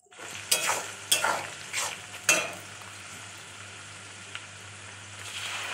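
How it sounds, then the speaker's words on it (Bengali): Onions fry with a ginger, garlic and tomato spice paste, four distinct stirring scrapes over a soft sizzle, close by, settling into a quieter steady fry. "পেঁয়াজটা বেশ ভাজা ভাজা হয়ে এসেছিলো"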